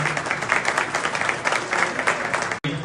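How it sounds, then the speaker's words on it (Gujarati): A hall audience claps steadily for an honoree at a community student-recognition ceremony, a loud, even ripple of hands that breaks off with a brief dropout near the end. "આપણે બધા સાથે સાથે તાળીઓથી સન્માનતા રહીએ"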